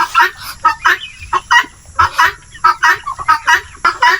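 Native chickens at feeding time cluck and call in a busy, close chorus of repeated short squawks, loud and continuous, with no talk.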